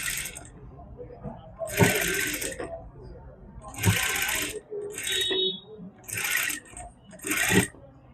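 Sewing machine stitching potli buttons, running in several short bursts of rapid whirring with pauses between them, close and fairly loud.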